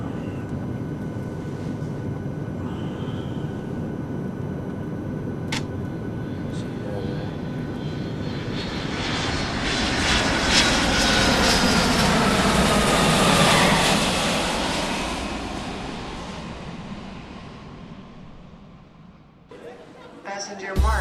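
Airliner engines roaring during landing, a broad whooshing roar heard from inside the cabin that swells to a peak midway and then fades, with faint cabin clatter near the end.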